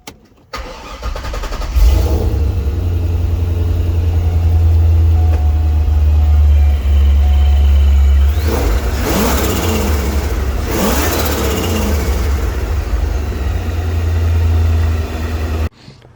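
A ProCharger-supercharged Corvette with a 5.7 engine cranks and fires, then settles into a loud, deep, rumbling idle, punctuated by two sharp throttle blips midway before cutting off abruptly.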